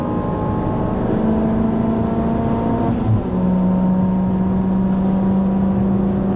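Honda VTEC engine in a car on a racing lap, a steady loud drone with a sustained pitch that dips briefly and then settles at a new level as the car keeps pulling, with no voices.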